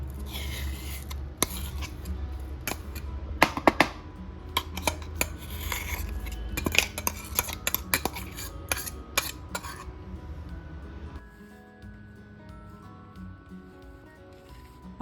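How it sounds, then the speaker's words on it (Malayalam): Coconut chutney made with roasted dried red chilies, Kerala style, being scraped and spooned into a bowl: clustered metallic clinks and scrapes of a spoon on steel vessels, close and busy, thinning out into quieter handling. "നമുക്കിതൊരു പാത്രത്തിലോട്ട് മാറ്റാം"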